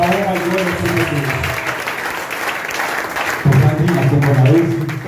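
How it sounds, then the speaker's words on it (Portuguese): A church congregation applauds loudly and continuously during a service, with a sustained wash of clapping mixed with raised voices and a low musical hum underneath. "Aplaudimos para a honra e glória do Senhor Deus."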